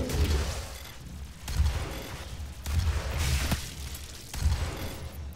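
Repeated bursts of gunfire in DOOM (2016) multiplayer come in several sharp volleys about a second apart, each a loud crack with booming low end, under a busy game soundscape.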